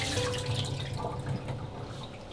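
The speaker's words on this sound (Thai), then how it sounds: "แล้วก็เอาน้ำออกจากจานก่อนนะคะ" Water poured off a plate of fresh strawberries, a quiet splashy trickle with small drips, close by and faint, running for a couple of seconds with no talking.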